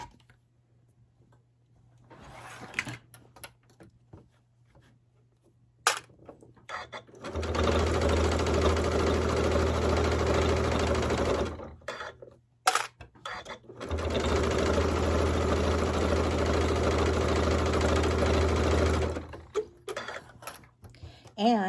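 Sewing machine stitching binding onto a large quilt runs in two sustained bursts of rapid, even whirring, close and loud, separated by a brief pause, with quiet handling sounds before and between.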